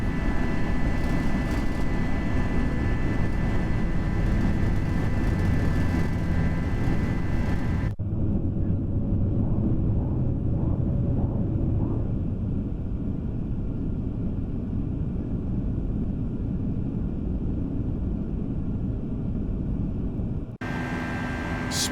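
FSLabs A320 jet in a flight simulator climbing after takeoff: a loud, steady engine roar and broadband rumble that drops in level partway through, then returns at the end.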